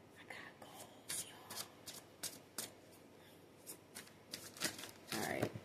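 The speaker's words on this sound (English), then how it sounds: "I think these are shuffled good enough." A deck of playing cards is shuffled again and again, with crisp riffling bursts and soft card slaps in an uneven rhythm, close and fairly quiet, with faint voices in the background.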